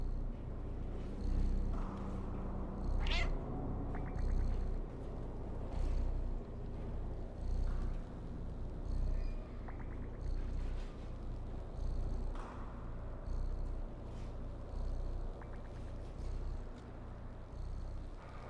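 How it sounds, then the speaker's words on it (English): A cat purrs steadily in Stray, the low continuous rumble running throughout under a busy city ambience of distant hum, traffic-like wash and occasional clanks, with no one talking. "you can hear the city's atmosphere and the cat purring"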